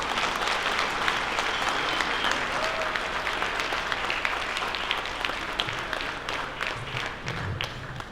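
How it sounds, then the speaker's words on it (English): Audience applause welcoming a speaker onto the stage at an introduction, a dense, steady wash of many hands clapping that carries on evenly for about eight seconds with no talk over it. "Could you please give us a warm welcome applause?"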